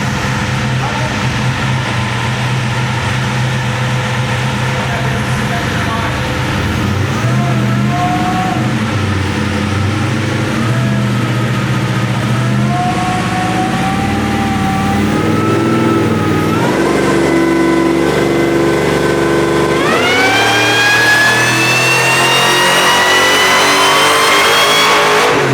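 A Ford Mustang's engine revs hard and climbs through rising pitch sweeps, loud and close, with a steady rumble beneath. It runs continuously for about 25 seconds and surges again near the end.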